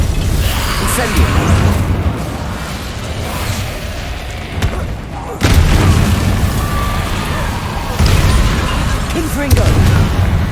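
Incendio fire spell being cast during Hogwarts Legacy combat, producing a dense, loud roar with repeated booming bursts over a few seconds amid busy battle noise.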